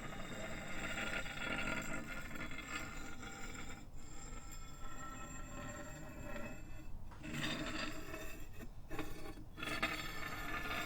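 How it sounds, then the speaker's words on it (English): Rusted scrap metal pieces scraped in circles on concrete and heavily processed, giving a continuous gritty rasping texture with slow swelling movements and brief dips, steady and fairly loud throughout with no voices. "scraping them about on concrete in circles around the Zoom."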